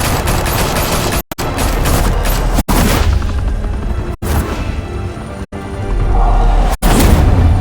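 Gunfire in the video game Batman: The Telltale Series: loud, sustained bursts of rapid automatic shooting and booming shots, broken by a few abrupt silent cuts between volleys.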